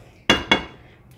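Cooked scrambled egg pieces scraped out of a frying pan onto a plate in a home kitchen, giving two sharp clinks of metal against crockery about a quarter second apart, close and fairly loud, with no talking.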